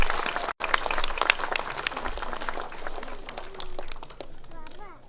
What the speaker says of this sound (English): A big round of applause for all the winners.